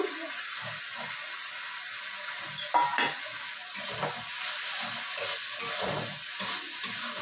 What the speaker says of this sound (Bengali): সর্ষে বাটা তো বেশিক্ষণ কষাবো না, একটু নেড়ে চেড়ে জল দিয়ে দেবো।